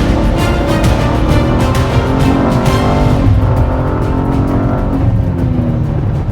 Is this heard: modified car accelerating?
yes